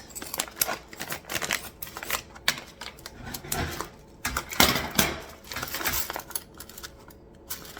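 Scissors snipping open a plastic bag of nuts and bolts, with a run of sharp, irregular clicks, crinkles and small metallic rattles close by and no talking.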